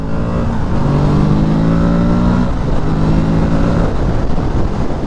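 Kawasaki Z650RS parallel-twin motorcycle accelerating hard, engine note climbing steadily through gears with rising harmonic whine, close and loud over constant wind rush.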